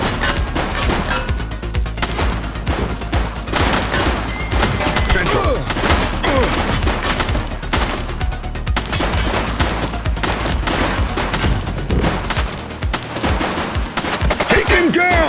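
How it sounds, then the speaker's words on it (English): Sustained automatic gunfire and rapid bursts of shots rattle through a police shootout in the video game The Precinct, dense and loud for the whole stretch, with occasional crashes and thuds mixed in. "He's shooting!"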